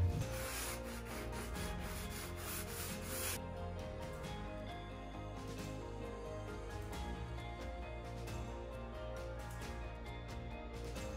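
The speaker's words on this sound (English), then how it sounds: "I'm just going to take a sandpaper and I'm going to go in on some of the corners and I'm going to give it a little bit of a distressing" Sandpaper rubbed by hand over the corners of a painted wooden furniture piece to distress it, heard as quiet, close, repeated scratchy strokes in an uneven rhythm.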